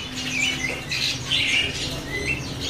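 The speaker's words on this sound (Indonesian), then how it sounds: "Ini ada burung cicak kelabu ya." Cicak kelabu bird at a market bird kiosk, several sharp squawking chirps repeating in quick irregular bursts, fairly close, with light background clatter.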